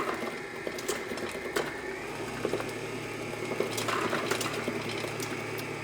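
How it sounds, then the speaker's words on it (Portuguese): An electric stand mixer whirs steadily as it beats a buttery dough with eggs, a continuous motor hum with small clattering ticks from the beaters. "Então, vamos agora passar para a batedeira."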